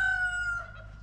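A rooster crows once outdoors on a quiet Christmas morning, a bright harmonic call held then trailing off, fairly close with no talk over it.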